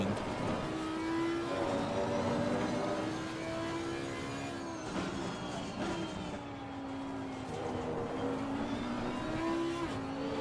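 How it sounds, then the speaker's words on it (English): A video-game Audi R8 Evo racing car engine at Imola in Assetto Corsa Competizione drones steadily with shifting pitch as it revs up and down through gears, with constant road rumble beneath. "Love the sound of this car."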